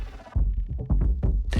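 A punchy electronic drum beat made in XO, processed through Shaper Box and an auto filter, with heavy low thumps and swept, filtered tones, short choppy hits in an uneven rhythm, loud and close.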